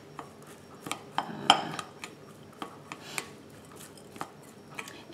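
A spoon clinks and scrapes in a bowl as rice is mixed with sesame seeds, sesame oil and salt, in sharp irregular taps and rubs heard close.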